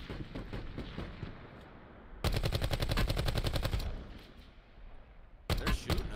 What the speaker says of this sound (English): They're shooting over there.